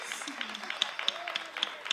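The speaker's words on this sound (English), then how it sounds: "let's give a big round of applause for our audience volunteers" Applause from an audience at an Indian cultural performance, cheering volunteers after a participatory dance; a soft, scattered patter of claps with a few sharper slaps, fairly faint and distant, with voices murmuring underneath.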